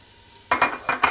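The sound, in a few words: bacon bits added to sizzling soup pot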